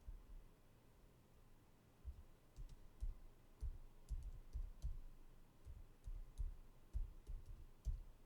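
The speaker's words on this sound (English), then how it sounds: "I'm just typing away." Soft, uneven keyboard typing: quiet clusters of key clicks in irregular bursts against a faint hiss.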